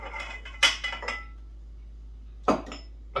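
Spoon scraping and clinking in a bowl while oatmeal is stirred into cookie dough, in two short bursts of clatter separated by a quiet pause.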